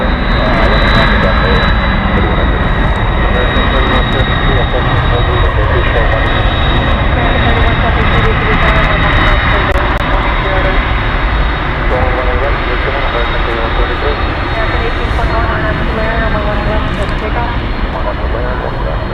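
A 1995-built American airliner near the runway at DFW Airport roars as a loud, steady jet engine drone that holds for the whole stretch, with people talking over it.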